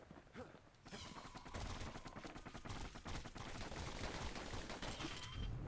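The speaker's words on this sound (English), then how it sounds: "these dueling pistols are quite good." Rapid gunfire from dueling pistols in a video game, dense overlapping shots crackling steadily throughout over a busy game soundscape, loud and close.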